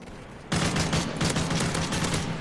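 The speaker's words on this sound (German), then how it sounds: "ich baller erst die AK leer" An AK rifle in the video game Modern Warfare 3 fires as a loud, continuous automatic burst with rapid rattling shots. It starts abruptly after a short quiet pause and keeps going to the end.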